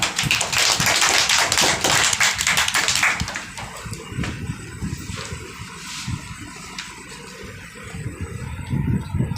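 A group of students claps for Aradhana in a tuition class, a dense burst of many hands that is loudest at first, then thins into lighter, scattered clapping.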